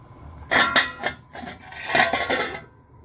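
A metal lid goes onto a cooking pot of black-eyed beans with chicken and water, giving several close, sharp clanks and scrapes in quick succession, with no talking.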